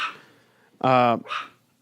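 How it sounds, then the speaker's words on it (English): Dog barking heard close by, one loud harmonic bark burst followed by a shorter second yelp, with faint voices before it. "We could talk over the dogs barking"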